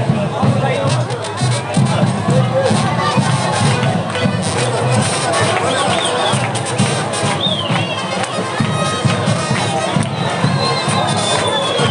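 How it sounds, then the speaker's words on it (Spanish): Crowd at the Diablada Pillareña festival in Píllaro, Ambato, Ecuador, cheering and shouting with children's voices and babble, a loud continuous outdoor roar with scattered applause mixed in. "Vamos a recibir con un fuerte y caluroso aplauso el público maravilloso"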